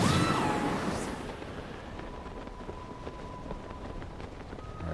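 Tulin's wind gust ability in the video game Zelda Tears of the Kingdom: a strong rushing whoosh bursts out at the start, then fades into a steady, softer airy hiss of wind.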